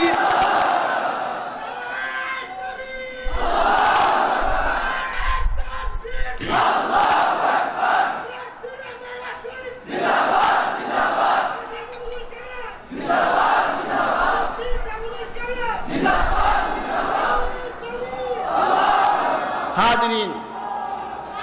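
Large crowd at a religious gathering at Sarsina Darbar Sharif roaring Allahu Akbar in unison after a takbir call, loud massed shouts in several surging bursts separated by brief pauses.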